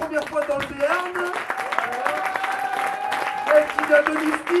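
An audience at a Béarn event applauds. Scattered clapping sits underneath someone speaking loudly over it.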